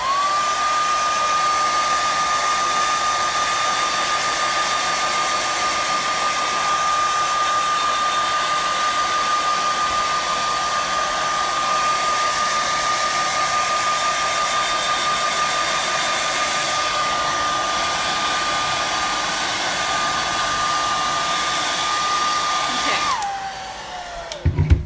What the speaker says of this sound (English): I'm just gonna blow dry this really quick so I can flip it over